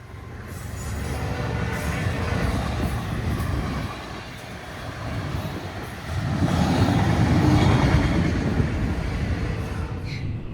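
A train rumbles past on tracks only feet from an RV at a campsite, a loud continuous low roar and clatter that builds to a stronger, nearer pass partway through, with no talking.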